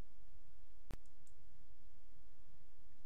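One sharp computer mouse click stands out against a steady low hiss of background noise.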